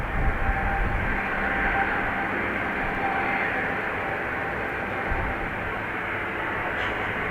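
An airliner takes off from runway 10 right at Dublin Airport, its broad jet engine roar steady and fairly loud throughout, slowly easing toward the end, with no voices over it.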